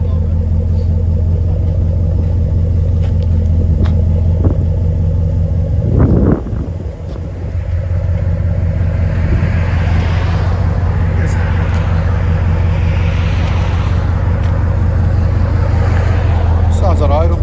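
A Dodge Ram with a 5.7L HEMI V8 idling steadily, its exhaust a continuous low rumble fitted with an aftermarket Corsa or Flowmaster Super 10 muffler, with a brief dip partway through and people talking nearby.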